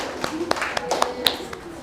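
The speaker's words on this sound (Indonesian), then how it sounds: "tepuk tangan dulu dong buat kelompok yang sudah maju" Classmates clap for a group that has just finished presenting, scattered, fairly light clapping with a few sharper claps standing out and some voices underneath.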